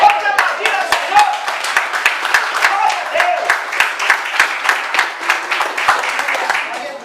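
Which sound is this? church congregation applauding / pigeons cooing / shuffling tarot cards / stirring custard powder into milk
church congregation applauding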